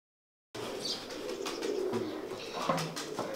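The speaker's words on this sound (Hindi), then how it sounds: "काफ़ी एज का कबूतर लग रहा है जी ये" Kamal pigeons coo softly in a loft after a short silent start, low throaty calls repeating irregularly, with faint chirps and occasional wing or movement sounds, fairly quiet and near.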